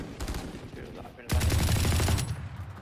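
Gunfire from the first-person shooter Valorant rings out in a rapid burst of shots, loud and close, with a heavier, more sustained volley midway through.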